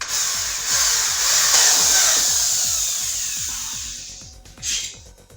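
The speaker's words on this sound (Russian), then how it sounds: "Сверлим насквозь." Power drill boring through a polypropylene pipe fitting, a high whining motor with rhythmic low ticks from the bit cutting, winding down near the end before a brief final burst.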